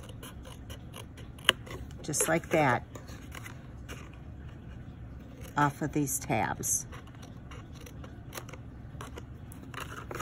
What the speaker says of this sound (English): take your scissors and trim